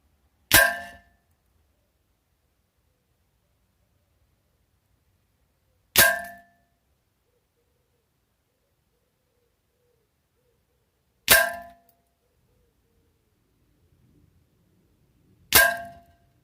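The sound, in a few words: aimed rifle shots fired at targets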